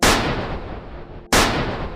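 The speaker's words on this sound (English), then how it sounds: "That's when those gunshots rang out." Two loud, booming gunshots, close and sharp, each followed by a long decaying echo, spaced about a second apart with nothing else heard.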